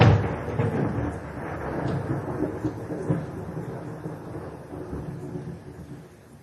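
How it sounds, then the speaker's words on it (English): Continuous low rumbling thunder rolls on without a break, a deep, heavy roar that swells and fades slightly, with a faint hiss of rain beneath it. "It's just a lot of thunder stuff."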